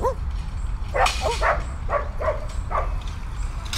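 A half spaniel, half lurcher dog gives several short yips and whimpering barks close by, spaced out over a few seconds, while people talk around it outdoors.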